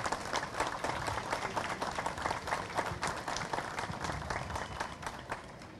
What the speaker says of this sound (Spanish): Yo pido un aplauso para Manuel.